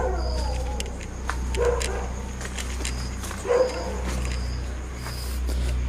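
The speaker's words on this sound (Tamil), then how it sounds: "லைட்டு வச்சதுக்கு தான் நாய் குலைச்சிட்ருக்கு." At night outside an abandoned factory, a dog barks and yips a few times from a distance. The bursts are set against a low steady hum and a thin, constant insect drone.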